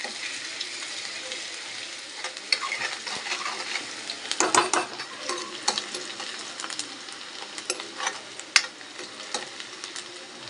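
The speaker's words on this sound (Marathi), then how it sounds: "लसूण छान लाल झाला की आपण त्याच्यामध्ये कांदा टाकून घेऊया कांदाही मस्त फ्राय करून घेऊया" Onion and garlic sizzle in a pan with oil, a steady crackling fry broken by scraping stirs and clinks of a spoon against the metal, close and moderately loud.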